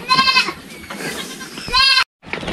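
Goats on a Philippine farm bleat loudly in two bursts, one at the start and another near the end, with a person talking in between.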